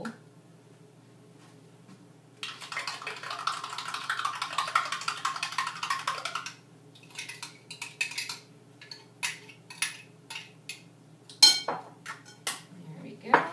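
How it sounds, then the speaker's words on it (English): Two eggs are beaten in a measuring cup with rapid, dense clinking for about four seconds, followed by scattered single kitchen clinks and knocks in a quiet room. "I think I'll just put them in my measuring cup and give them a little mix before I add them."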